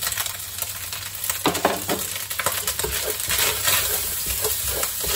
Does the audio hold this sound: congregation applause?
no